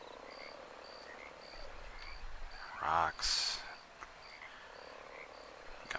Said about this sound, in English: Got frogs